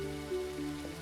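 Rain falling in the cozy shop game Teddy's Haven, a steady soft patter under sustained tonal game music, with no break through the whole short stretch.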